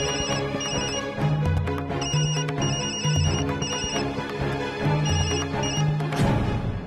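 A telephone ringing in repeated short bursts over a busy musical backing, the rings steady and fairly loud with brief gaps between them.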